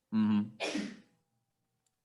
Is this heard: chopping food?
no